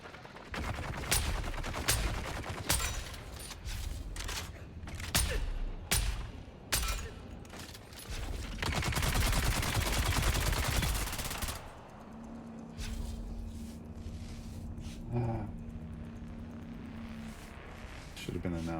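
Bursts of sci-fi video game gunfire rattle in quick volleys, then a long sustained barrage, followed by quieter scattered shots and a low electronic hum, with a player talking between the shots.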